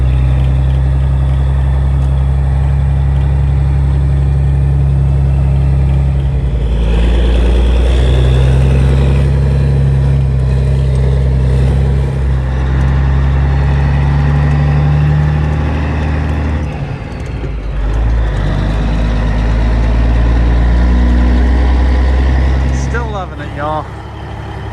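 Two big trucks, a 1989 and a 1991, idle loudly close by with a steady deep rumble, which shifts briefly partway through and again near the end.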